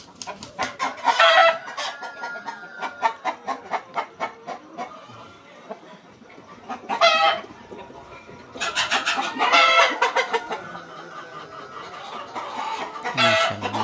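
Super hybrid chickens cluck in rapid, rhythmic bursts close by, with a few louder, drawn-out squawking calls breaking in, and a faint voice in the background.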